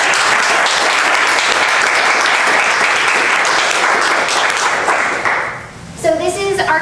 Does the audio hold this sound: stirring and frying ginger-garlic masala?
no